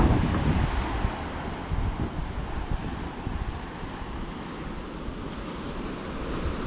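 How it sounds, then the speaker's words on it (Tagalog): Strong wind roaring across a beach at Infanta, Real, Quezon, a loud, constant rushing that buffets the microphone and blends with the low wash of surf, heaviest at the start and never letting up. "Sa biyahe pa lang, ang lakas na ng hangin."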